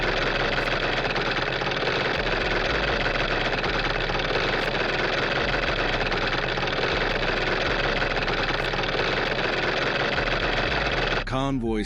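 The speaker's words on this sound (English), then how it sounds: "Convoy speeds up, engines roaring with power as the next challenge looms." A convoy of tractors and heavy equipment drives with engines roaring in a loud, unbroken drone with a deep throbbing undertone, ending in a short warbling tone.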